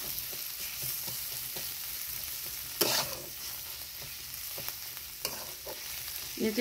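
Salted brinjal for bharit being stirred and mashed in a pan: soft continuous frying hiss with scattered scrapes and one louder clatter midway, close, no talking.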